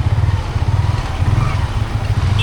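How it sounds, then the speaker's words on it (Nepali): A motorcycle is ridden along a hilly road toward Begnas Lake near Pokhara, its engine chugging in quick, regular low pulses close by. The sound is loud and unbroken for the whole short stretch, with no talk. "बाइक चाहिँ दाइले चलाइरहन्।"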